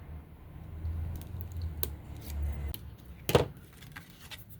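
Scissors snip off a string on a snowflake spinner papercraft holiday card, a single sharp close cut standing out after faint rustling and handling noises at a quiet level, with no talking.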